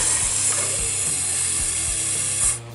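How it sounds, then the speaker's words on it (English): A pneumatic filling machine pushes two-part military paint into a spray can, a steady loud hiss with rhythmic mechanical clunks that stops abruptly at the end. "That pneumatic cylinder actually pushes the paint into the can."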